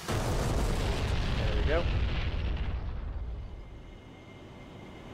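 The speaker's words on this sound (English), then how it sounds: "you're going to have to majorly trim out once you've launched the missile" A missile launching from an AV-8B Harrier in the DCS flight simulator, a loud roaring rush that swells, then fades into a distant rumble, with someone speaking briefly over it.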